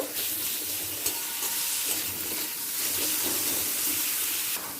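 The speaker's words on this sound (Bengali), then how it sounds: "একটা কাঁচা লঙ্কা দিয়ে ভালো করে মিশিয়ে নেব" Garam masala, Kashmiri red chilli powder and a green chilli are stirred in a frying pan for mung dal, giving a continuous close sizzle with scraping stir strokes and no talking.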